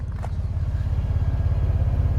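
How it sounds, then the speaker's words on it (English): Rumbling exhaust of a 2023 Ford Expedition Max XLT with the 3.5-liter twin-turbo engine, a steady low pulsing drone that is close and fairly loud and runs alone without talk. "Love the exhaust sound."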